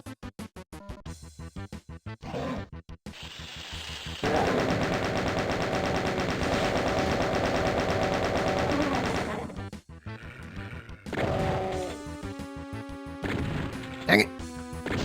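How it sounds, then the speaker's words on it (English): Player's gun firing in the game DOOM, rapid repeated shots in bursts, a long sustained stretch of continuous fire in the middle, loud and close. "Now I can waste all my ammo and not kill things with this gun."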